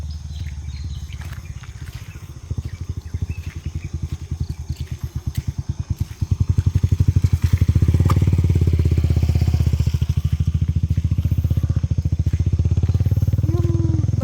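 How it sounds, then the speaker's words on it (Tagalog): A motorcycle passes close by near a bridge, its engine a rapid pulsing putter that grows louder and rougher midway, then holds as a steady loud drone. "Motor naman yan."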